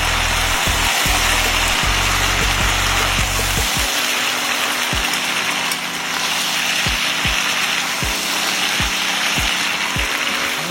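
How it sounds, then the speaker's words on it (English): Sliced baby potatoes fry in a pan, giving a dense, steady sizzle and crackle up close, with occasional low knocks and scrapes throughout. "That's the sound of potatoes cooking"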